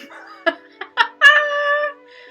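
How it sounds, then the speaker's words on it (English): A cat lets out a few short, harsh cries, then one long, drawn-out yowl, close by, with faint background noise between calls. "Demon cat."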